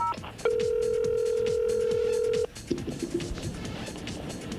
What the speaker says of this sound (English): AT&T, please connect us to Mr. Everett